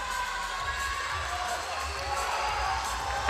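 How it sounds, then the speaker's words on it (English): A packed crowd at a powerlifting meet cheers and whoops for a lifter's heavy deadlift, a continuous loud roar of many voices with scattered shouts rising toward the end. "Everybody cheering him on."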